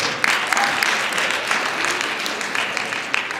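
An audience at a religious lecture gives a round of applause, a dense, even patter of clapping across the room with a few sharper claps standing out, moderately loud and uninterrupted by speech.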